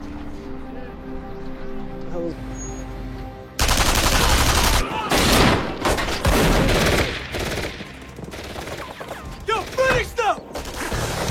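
Rapid bursts of gunfire erupt in a film shootout and chase scene, loud overlapping shots and automatic fire in dense volleys after a quieter opening, with voices and engine noise mixed in.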